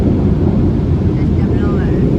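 A self-cleaning car wash blower gives off a loud, continuous, close-up roar of rushing air with no break.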